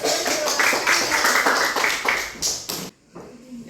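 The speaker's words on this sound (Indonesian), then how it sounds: "tepuk tangan dulu" A class of children claps their hands together in a quick, uneven patter, close and lively, before the clapping stops abruptly and a quiet room remains.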